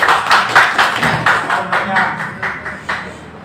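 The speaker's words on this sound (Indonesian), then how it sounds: "Tepuk tangan untuk Nyong Kopi" Rhythmic clapping from an audience at a community coffee gathering in Tegal, steady claps repeating close and loud throughout with a dense crowd texture.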